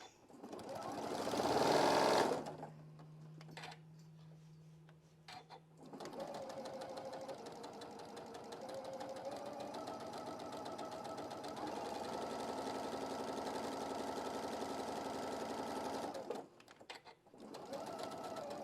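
A sewing machine stitches fabric for an Easter egg, starting with a brief loud burst, then, after a pause, running in a steady rapid mechanical chatter for about ten seconds before stopping and starting again briefly.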